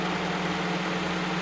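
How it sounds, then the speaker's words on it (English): A 1989 Honda Prelude idles high with its primary radiator fan running, a steady close engine hum with a strong low drone and a broad even whoosh of fan noise throughout, no voices. "That's the primary radiator fan."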